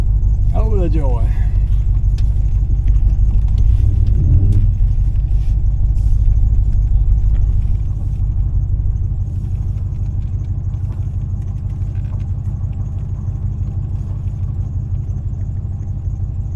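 An old truck's engine runs after a repair, giving a continuous low rumbling idle that stays close and steady throughout and grows slightly quieter partway, with a brief voice near the start.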